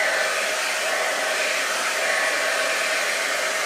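A Babyliss Hydro Fusion hair dryer brush runs steadily and loudly up close, a constant airy whoosh with a high motor whine and no talking.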